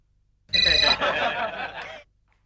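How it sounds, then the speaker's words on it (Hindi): A short burst of telephone ringing, bright and insistent, lasting about a second and a half before cutting off into quiet. "क्या मेरा फोन बज रहा है"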